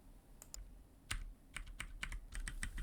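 Arrow keys on a computer keyboard are pressed in a scattered series of light, close clicks, some single and some in quick pairs, with no talk.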